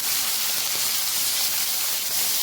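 Green chillies sizzle in hot oil with fried garlic, a steady close hiss spreading across the whole moment with no pauses and no talking.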